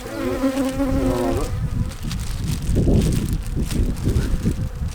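Honeybees buzz thickly and close at an open hive that has been without a queen for 40 days. The hum is dense and continuous, with a single bee's sharper whine passing near at the start.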